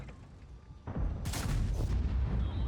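A low rumble gives way to a couple of sharp gunshot blasts with a booming tail, sounding like game gunfire.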